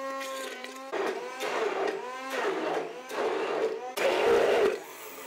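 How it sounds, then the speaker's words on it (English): A kitchen blender whirs in several bursts, starting and stopping with rising pitch as it mixes diced tomatoes, close and fairly loud, with no talking. "dice the fruit and mix everything in a blender"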